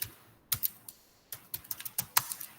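Keys on a computer keyboard clatter in short irregular bursts while Java code is typed, close and fairly quiet, with brief pauses between the runs of keystrokes.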